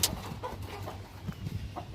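Several chickens cluck in short, scattered bursts close by, with no one speaking.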